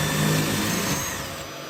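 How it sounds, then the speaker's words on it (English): A power drill boring holes into a wall for a TV mount, with a vacuum held alongside to catch the dust, gives a steady, loud, broadband whir that eases off slightly toward the end, with no talking. "these drill bits make quick work and a vac next to it for easy cleanup."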